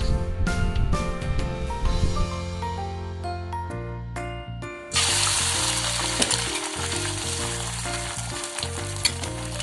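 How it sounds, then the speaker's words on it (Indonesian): An egg fries thinly in a pan, its loud sizzle breaking in partway through and continuing steadily beneath background music. "Pokoknya kalian lakuin aja kayak gimana goreng telur pada biasanya."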